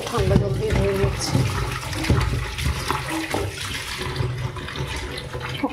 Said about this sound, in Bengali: আর একটু ঠান্ডা জল দিয়ে ধুয়ে নিচ্ছি।